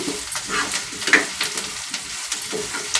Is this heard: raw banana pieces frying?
yes